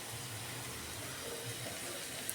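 Water left from cooking clams is poured through a strainer for a clam curry, giving a faint, steady trickle and gush that runs for about two seconds with no talk.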